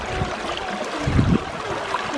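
Water in a spring creek flows and trickles nearby in a steady wash, with a few splashes, and no voices over it.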